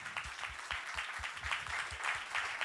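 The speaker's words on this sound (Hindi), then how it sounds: "जोर से तालियां यीशु मसीह के लिए" Church congregation clapping loudly for Jesus Christ at a worship service, a quick, rhythmic unison beat of hand claps repeating steadily over a wash of scattered clapping.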